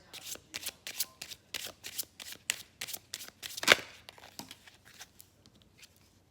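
Tarot cards are shuffled by hand in a run of crisp, rhythmic riffles and flicks, close and clear, with one louder snap midway, then lighter taps as single cards are drawn from the deck.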